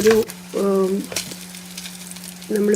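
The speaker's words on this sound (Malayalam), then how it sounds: "ഇതിൻ്റെ കറിയുടെ കോക്കനട്ട് മിൽക്ക് ഒഴിച്ചിട്ട് നമ്മളിത് വേവിക്കുന്നുണ്ട്." Fish curry simmering with coconut milk in a pan, a steady low sizzle and bubbling throughout, with brief stirring or utensil sounds near the start and end; no talking.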